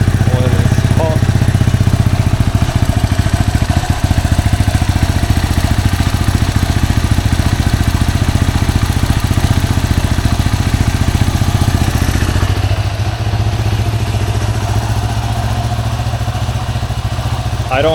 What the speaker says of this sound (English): So let's start the bike for a few minutes so that oil